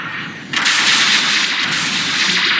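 Sustained gunfire in a first-person shooter video game, a dense continuous burst of rapid shots lasting over two seconds after a brief quieter lead-in, loud and close with no talk over it.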